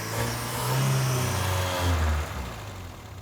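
Skoda car engine revving as it pulls away for a drive on farmland, a steady mid-pitched engine note that rises and swells, then eases back, close and loud with no talking.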